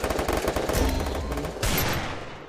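Automatic gunfire in the Free Fire battle royale game on the Bermuda map, a loud rattling burst of rapid shots followed by a second sharp volley, with no talking.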